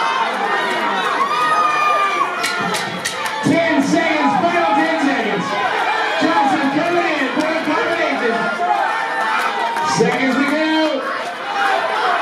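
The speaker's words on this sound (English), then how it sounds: "Cheer him on." Boxing match crowd at a fight night, loud sustained cheering and shouting during round three, with voices yelling over the din throughout.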